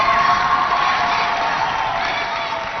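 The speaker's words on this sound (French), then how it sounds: "Alandi Gim Guerita, qu'on applaudit très fort." Sustained crowd noise at a school competition, clapping mixed with cheering and high-pitched shouts, loud and steady throughout.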